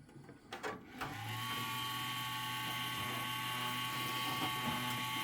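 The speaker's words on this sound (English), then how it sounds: "It is no longer super silent, but instead has a very noisy fan in there." Loud, steady whir of the noisy fan in an old Pentium 4 PC's power supply, spinning up after a few clicks and then droning on continuously close by.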